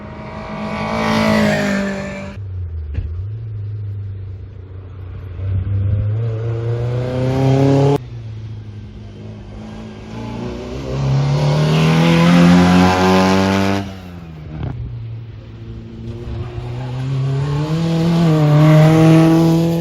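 MG Midget race cars at an MGCC sprint at Curborough, engines revving hard and climbing through the gears in repeated bursts, with rising pitch between shifts and loud, close accelerations.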